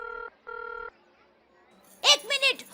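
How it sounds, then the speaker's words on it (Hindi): A landline telephone rings in a household comedy scene: two short electronic ring bursts with a brief gap between them, followed by a voice speaking nearby. "एक मिनट, फोन आ रहा है,"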